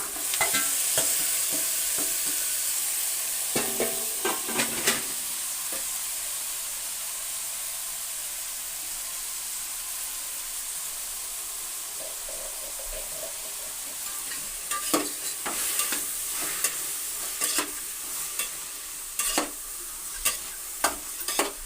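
Greens and onion fry in a pan with a continuous soft sizzle, and a spoon stirs and scrapes against the pan in bursts, louder near the start and toward the end.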